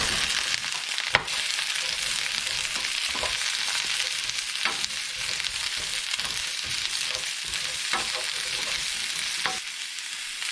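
Romanesco broccoli frying in a pan with garlic, a steady close sizzle broken by occasional sharp crackles and stirring knocks, running continuously with no talk.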